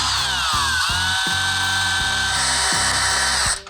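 Cordless power driver backing out T27 screws on the fairing of a Harley-Davidson Road Glide, whirring steadily in close, loud bursts with short pauses and a motor pitch that settles as each screw loosens.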